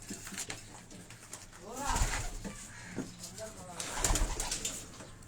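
Pigeons cooing on a Karachi rooftop, soft repeated coos rising twice among rustling, with a voice talking nearby.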